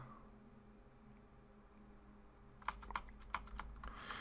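Computer keyboard keys are tapped repeatedly to delete text while editing a Kali Linux repository file, a quiet run of close, crisp clicks following a near-silent stretch.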